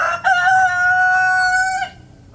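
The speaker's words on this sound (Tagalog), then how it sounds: "Ito yung tandang natin." A rooster crows once, loud and close, a sustained tonal call lasting under two seconds before trailing off.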